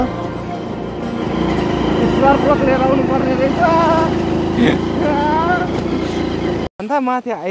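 Motorbike engine droning steadily while riding along a village road at Dana Bari near Dharan, a continuous close hum with voices talking over it before it cuts off near the end.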